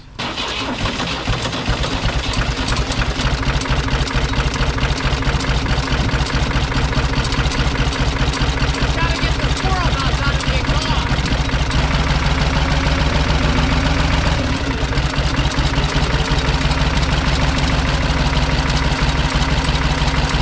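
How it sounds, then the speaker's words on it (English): Engine idling roughly on only one or two cylinders, a loud, steady, uneven chugging that runs on without a break. "It's only running on like 1 or 2 cylinders."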